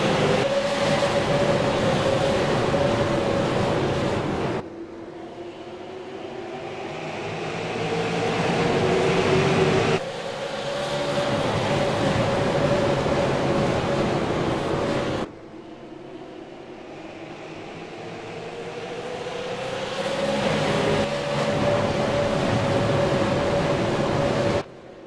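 Sim race cars in iRacing at USA Speedway roar back up to speed after a green-flag restart, a loud continuous engine drone with pitch rising and cycling through shifts, with a few brief dips in level.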